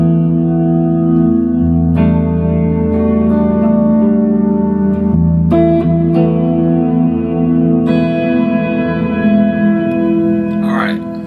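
An electric guitar plays through a tiny tube amp with gain, a fat switch, treble and bass controls and built-in reverb, giving loud sustained chords and single notes with a thick, echoing tail that stay close and steady throughout.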